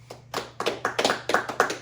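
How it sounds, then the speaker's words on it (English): A small group claps in a steady rhythm, about eight sharp close hand claps spaced evenly after a faint start, with a low steady hum underneath. "Clap it up. Clap it up."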